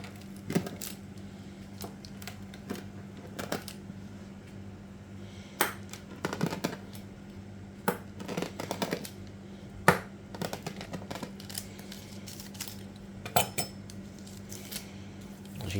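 Thick fish food wafer dough is cut into squares, sharp irregular clicks and taps of a blade against a hard surface, close and scattered over a quiet background, with no talk.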